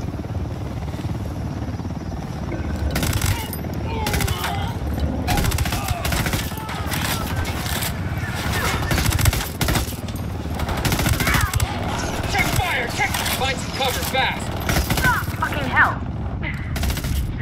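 Gunfire in the video game Ghost Recon Wildlands: repeated loud bursts and single shots scattered throughout over a continuous helicopter rotor drone, with voices talking in between.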